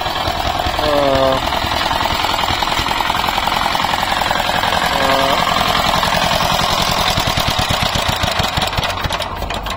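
A small power tiller engine runs loudly and continuously with a rapid chugging knock throughout, revving steadily with no pause.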